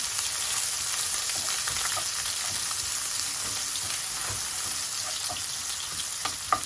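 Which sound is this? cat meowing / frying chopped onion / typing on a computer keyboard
frying chopped onion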